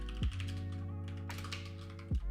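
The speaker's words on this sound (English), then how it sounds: "I don't like typing shit like this" Computer keyboard typing heard as faint rapid clicks beneath a loud steady low electrical hum, with brief thumps at the start and end.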